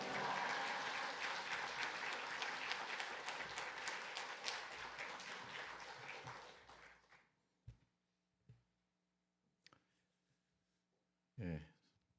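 Applause from a church congregation welcoming a visiting pastor, a dense sustained clapping that fills the first seven seconds and then tapers off, followed by scattered isolated knocks and a few brief sounds in a quiet room.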